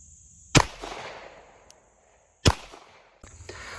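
Two loud, separate gunshots about two seconds apart, one firing 147-grain Callaway Ballistics ammo and one firing 115-grain Russian steel ammo, strike a budget bulletproof shield target. Each shot is a sharp crack followed by a short echoing tail.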